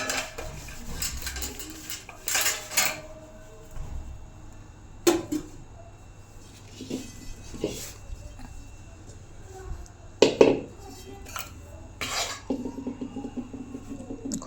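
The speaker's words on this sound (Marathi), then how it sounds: "खारी पावडर टाकूया आणि खोबऱ्याचा किस घेऊया आणि सगळे आता मिक्स करून घेऊया." Grated coconut and khari powder are stirred together in a pot for methi ladoo, with a spoon scraping and clinking against the metal in irregular bursts, some sharp knocks standing out over quieter rubbing.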